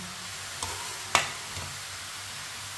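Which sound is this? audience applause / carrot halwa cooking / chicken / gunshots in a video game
carrot halwa cooking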